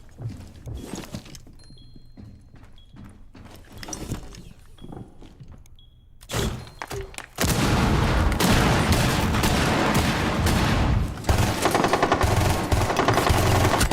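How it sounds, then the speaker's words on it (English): A C4 charge detonates in Rainbow Six Siege, a sudden blast that breaks into a loud, sustained roar, preceded by scattered sharp gunshots and footsteps in a tense firefight. "C4 ready. Detonating."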